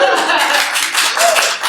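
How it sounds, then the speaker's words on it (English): A crowd applauds, a short dense burst of clapping from many hands close by, filling the whole moment at a steady level during a panel discussion on sustainable food. "A little applause."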